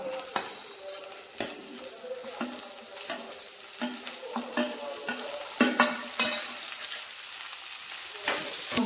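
Shallots, garlic and coconut pieces fry in hot oil for a jackfruit seed curry, giving a constant close sizzle broken by sharp, repeated scraping stir strokes at an irregular pace.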